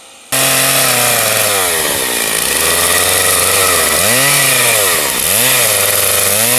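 A chainsaw cuts a dovetail joint into wood for furniture, its engine snarling loud and steady throughout, with two brief dips and recoveries in pitch as the bar bites and is worked through the timber.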